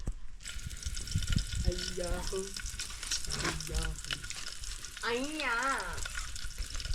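Garlic fries in hot oil with a steady close sizzle and stirring, while a voice speaks over it at times.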